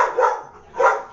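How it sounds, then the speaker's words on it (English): A dog gives two loud, close barks about half a second apart, with a brief quiet gap between them. "Did we set somebody else's dog barking?"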